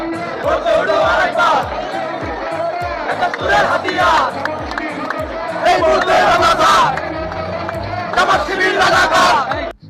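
A large protest march crowd of BNP supporters in Bangladesh chants slogans in loud, rhythmic unison, voices surging and overlapping continuously up close.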